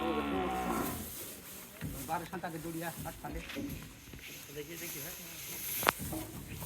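Cattle, including cows, calves and a pregnant Gir cow, are being loaded for transport from Naogaon to Sylhet. A loud nearby moo opens the scene, followed by livestock noise and bustle beneath steady talking.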